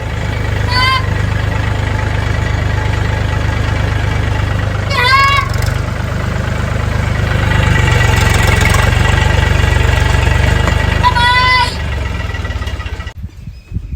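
A tractor engine idles with a steady, loud low rumble and rhythmic throb throughout, as brief bursts of talk come through over it and the sound cuts off abruptly near the end.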